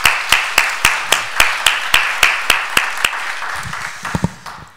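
A church congregation gives encouraging applause in unison at an afternoon service, a series of loud, evenly spaced claps about three per second that thin out near the end.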